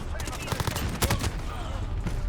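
Gunfire in the video game Call of Duty, a quick burst of several rapid shots packed into a couple of seconds, fairly faint under game ambience.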